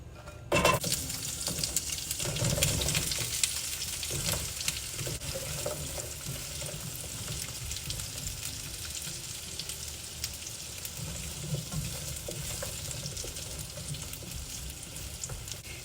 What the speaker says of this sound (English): Now let's get them in the skillet.